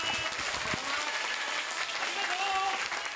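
Supporters applaud and call out for a defeated Tokyo governor candidate after the election, dense sustained clapping with scattered shouts and voices mixed in throughout.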